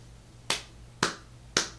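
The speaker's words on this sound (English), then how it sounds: "And he's clapping." Three slow, crisp hand claps from a host in an audio drama, spaced about half a second apart, faint and isolated against a quiet background.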